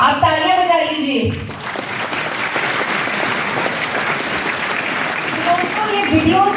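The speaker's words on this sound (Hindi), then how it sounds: "आप तालियां बजा लीजिए।" An audience claps at the Mission Healthy India health program in Rohtak, a steady, dense wash of applause filling the room, with a voice speaking over it at the start and again near the end.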